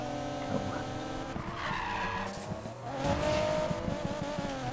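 Ford GT drifting in the racing game Need for Speed Payback, tires skidding and squealing over a steady, revving engine, the squeal rising and swelling through the turn before easing off.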